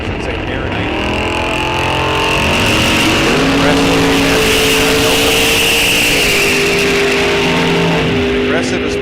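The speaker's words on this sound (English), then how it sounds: "Sounds like a pro stock car doing a burnout" A pro stock drag car roars through a burnout at a drag strip, its engine note rising and holding a loud sustained howl, with a race announcer talking over it throughout.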